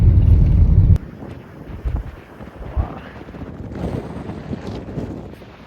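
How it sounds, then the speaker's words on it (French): Strong wind on a beach, heavy roaring buffets against the microphone at first, then gusty rumbling and rustling that comes and goes. "il y a beaucoup de vent"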